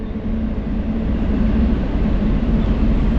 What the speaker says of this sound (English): I'm really liking the train. I think it's really cool. Just adds a cool effect, you know, right on the other side of the river.